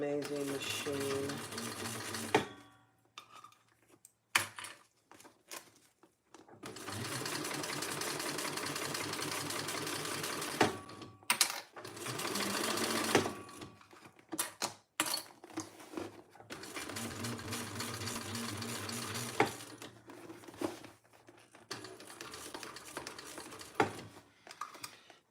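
A Thor cylinder-arm sewing machine runs in several long bursts of fast, even stitching hum, stopping and starting between runs with short quiet gaps and light clicks, close and fairly soft.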